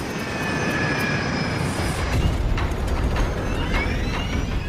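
Steady roar of a DC-9 airliner's jet engines with a high whine, continuous and fairly loud throughout.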